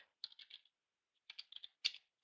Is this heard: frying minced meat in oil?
no